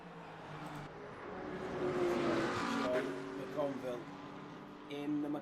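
GT3 race cars lapping Spa in the Le Mans Ultimate sim racing game, with a steady engine drone that swells and fades as cars pass. A commentator talks over it throughout.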